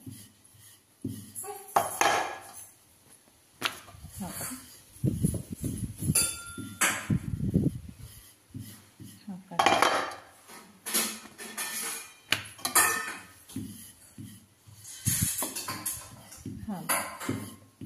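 Puran poli being rolled out with a rolling pin on a board, giving repeated soft thuds and wooden knocks in an uneven rhythm, with someone talking over it.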